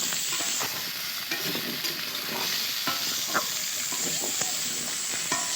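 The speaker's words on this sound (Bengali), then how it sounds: "এবার এটা আলু দেবো আলুগুলো একটু ভাজা ভাজা হলে একটু মশলা দেবো" Potatoes fry in a pan of hot oil for a pangas fish curry, a continuous close hiss with occasional light stirring scrapes.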